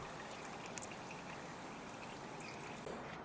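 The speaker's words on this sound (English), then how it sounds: "while our oil finish draining out there" Engine oil drains steadily from a 2018 VW Golf 1.0 TSI during an oil change, a faint continuous trickling pour with a couple of small drips and clinks, no talking.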